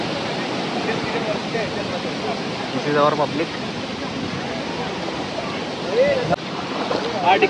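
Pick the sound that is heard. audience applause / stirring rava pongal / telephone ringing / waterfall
waterfall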